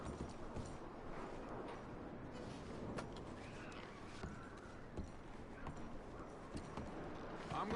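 Horse hooves clip-clop in Red Dead Redemption II, a steady stream of hoofbeats amid busy game ambience and faint voices at mid distance.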